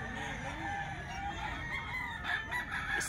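A young Gilmore hatch stag, a gamecock, crows up close in a short, loud cock-a-doodle call, with other fowl faintly in the background.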